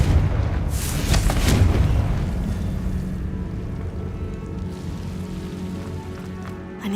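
A fiery blast spell in a video game bursts loudly in the first two seconds, then fades into a sustained rumbling, crackling tail with no speech.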